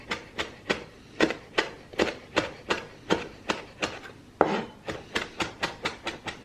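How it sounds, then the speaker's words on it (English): A knife chopping fresh dill on a cutting board, a steady run of about twenty crisp, close taps at a brisk, even pace, with no talking. "I'm just gonna chop it."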